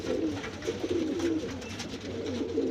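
Pigeons coo inside a pigeon house, a continuous low, throaty burbling from several birds close by, rolling on without a break and with no voices.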